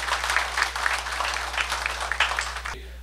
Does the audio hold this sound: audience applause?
yes